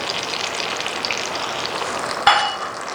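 Tomato paste and chilli garlic sauce being stirred into a sauce for meatball spaghetti, a steady close sizzle and scraping hiss with one sharper clatter near the end, no voices.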